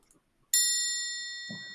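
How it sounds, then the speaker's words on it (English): A triangle is struck once, giving a bright ringing tone that rings on and slowly fades, with a brief burst of noise near the end. "they say is the bell, but it's actually a triangle"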